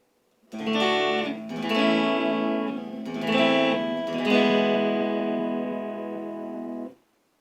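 On the neck pickup, an electric guitar plays four sustained chords with a mellow, warm tone, each strum blooming and ringing near the mic before the last one is cut short.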